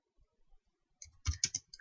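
Keys on a computer keyboard are tapped lightly while a folder name is typed, a short quiet burst of a few clicks after a brief near-silent gap.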